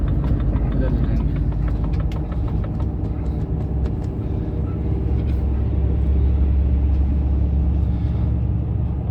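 Heavy Tata 5530S truck rolling along a congested highway from Banaras to Kolkata, steady low engine rumble and road noise throughout with intermittent ticking clatter, close and continuous.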